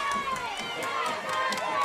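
A crowd at a high school football game between Choctaw County Chargers and their opponent, a spread of distant cheering and shouting with overlapping voices and whoops, steady throughout the short stretch.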